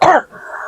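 A single short, harsh cough or throat-clear, close and loud, followed by a faint lingering rasp.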